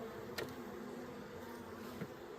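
Steady bee buzzing close by around a hive box, a continuous drone with a couple of brief louder passes, no voices.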